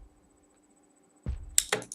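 A thick electronic kick drum layered with a short click, struck a few times in quick succession after a stretch of near silence, punchy and upfront with no talking.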